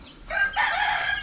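A pure Sweater breed rooster crows once, close and clear, in a short call that rises and then holds.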